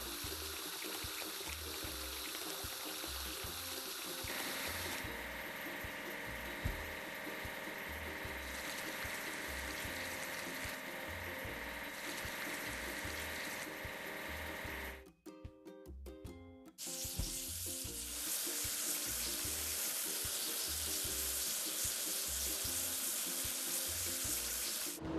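Water spray washing dirty parts of a construction truck in a kids' building video game, a steady hissing wash running under game music, briefly dropping out mid-way before surging back louder.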